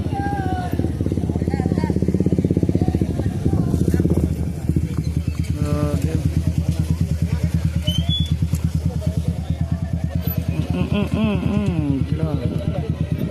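A motorcycle engine idles and putters steadily nearby, a low continuous rumble with people talking over it throughout.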